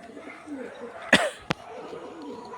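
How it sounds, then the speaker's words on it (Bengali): Domestic pigeons take flight after a long break. Two sharp, loud wing-clap bursts come close together against faint background cooing and ambient noise. "তো গাইস আমার পায়রা উড়েছে আজকে অনেকদিন পর"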